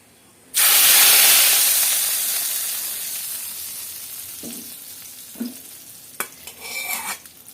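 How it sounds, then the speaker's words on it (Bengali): Hot five-spice tempering poured into cooked chana dal erupts in a loud, sudden sizzle that slowly fades, followed by a few spoon clinks and stirring sounds. "এখন কি করতে হবে, ডালের মধ্যে এটা ঢেলে দিতে হবে।"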